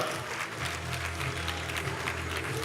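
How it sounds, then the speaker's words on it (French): Sustained applause from a crowd greets a film crew climbing the red carpet steps at the Cannes festival. The clapping is steady and fairly distant throughout. "Sous les applaudissements, le reste de son équipe."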